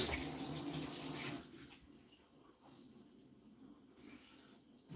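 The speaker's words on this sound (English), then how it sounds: "Quickly wash my hands again." Tap water runs during handwashing, a close, steady splashing stream that cuts off partway through, leaving faint rustling and quiet handling noises afterward.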